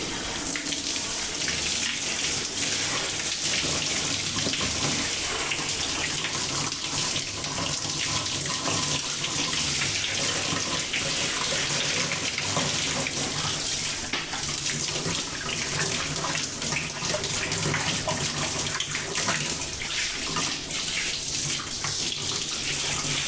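Shower water runs in a dense, continuous hiss and splatter, close and steady for the whole stretch as a body is washed, with no talking.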